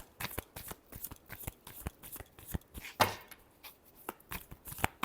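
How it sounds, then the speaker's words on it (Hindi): Tarot cards are shuffled by hand in quick, light, rhythmic slaps and riffles, close and fairly quiet, with no talking. "Last shuffle."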